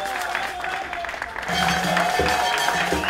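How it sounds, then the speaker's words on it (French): A crowd at a community talk in Congo claps steadily for a citizens' action club, a dense wash of applause building and holding loud for a few seconds. "On applaudit très fort pour le club d'action citoyenne"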